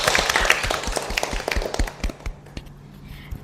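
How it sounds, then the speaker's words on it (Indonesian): Audience applause at an Indonesian talk show event, a spread of quick claps that is loudest at the start and thins out over about three seconds. "Tepuk tangan untuk Kak Nura"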